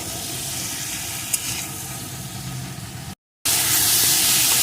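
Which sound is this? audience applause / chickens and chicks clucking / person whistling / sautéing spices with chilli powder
sautéing spices with chilli powder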